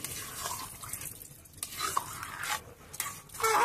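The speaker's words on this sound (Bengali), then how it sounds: "এবারে জল দিচ্ছি একটু" Water poured into a pan of egg tadka frying on the stove, giving a soft hiss and sizzle with stirring scrapes and a few brighter splashes, moderately quiet and without talk.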